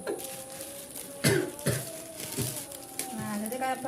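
A couple of sharp coughs stand out over a noisy background with faint chatter, followed by smaller throat-clearing sounds.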